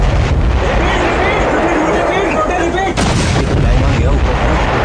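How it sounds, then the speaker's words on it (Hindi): Artillery guns firing shells at Pakistani army bunkers along the Line of Control, a dense loud barrage of booming blasts and rumbling continuing throughout, with voices faintly mixed in. "सेना ने तोपों से ऐसे गोले बरसाए कि पल भर में पाकिस्तानी सेना के बंकर धुआं धुआं हो गए।"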